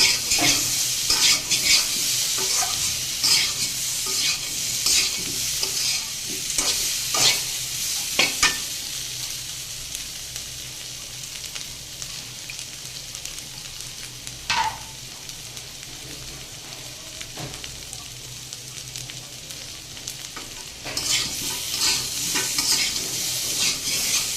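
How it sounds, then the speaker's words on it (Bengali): Red amaranth leaves sizzle steadily in a hot pan while a utensil scrapes and stirs them in repeated strokes, close and fairly loud, with no talking. "দেখুন সবজিটা কিন্তু আমার ভাজা হয়ে গেছে বেশ ভালো করে।"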